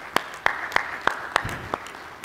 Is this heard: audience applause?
yes